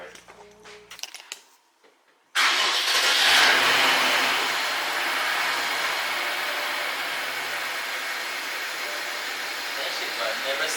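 A twin-turbo V8 in a BMW 550i with its downpipes removed fires up with a sudden loud burst after a couple of seconds of quiet talk, then settles into a loud, steady, raspy roar that holds to the end.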